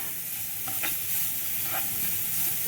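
Vegetable momo filling is stirred and tossed in a pan over a medium-high flame, a soft steady sizzle with a few scraping stir strokes, close and fairly quiet, with no one talking.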